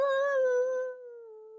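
A voice imitates a wolf howl with one steady, sustained tone that holds and gently falls, close and clear with no other sounds.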